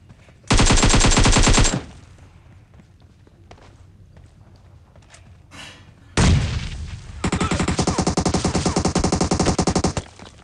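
Gunfire in the mobile battle royale game PUBG Mobile: a loud rapid burst of automatic fire, a lull with faint footsteps, then a sharp shot followed by another long sustained automatic volley, close and without talk.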